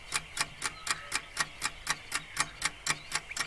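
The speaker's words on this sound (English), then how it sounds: "my alarm clock is one of my favourite things. It makes a great ticking noise." A wind-up alarm clock ticks close and clear in an even, steady rhythm, about four crisp ticks per second, with no other sound around it.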